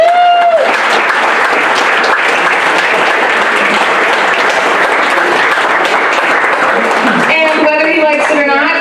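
A loud, dense wave of audience applause fills a community talk about water and the future, sustained for several seconds, with a voice briefly heard at the start and speech resuming as the clapping fades.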